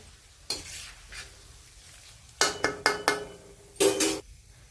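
Whole coriander seeds, cumin and spices are stirred into hot oil in a pan for Diwali chivda, with the gas off. A spoon scrapes and clinks against the pan in a few sharp bursts over a faint sizzle.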